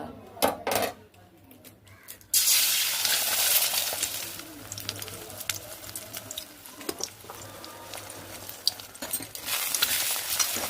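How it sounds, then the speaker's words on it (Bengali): Pasta fries in a pan with a bright, hissing sizzle that bursts in after a few scattered knocks, then holds steady at moderate loudness with small clatters from the pan. "আর এইদিকে হয়ে গেছে পাস্তাটা ভাজার পালা।"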